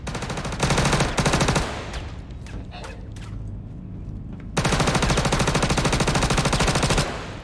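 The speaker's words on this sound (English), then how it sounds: "I like how different the gunfire sounds now" Bursts of rapid automatic gunfire in the video game Star Citizen, loud and close, broken by a quieter stretch of scattered shots and effects before another long sustained burst.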